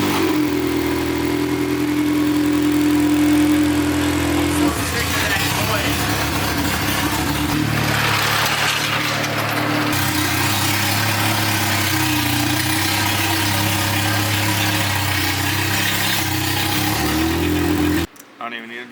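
A K24-swapped Honda Civic engine idling steadily with a low droning hum and shifting tone, moderately loud and close, then cutting off near the end; people talk over it.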